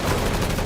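Dense gunfire in the video game Combat Champions, a rapid, continuous burst of shots that fills the brief moment, loud and close.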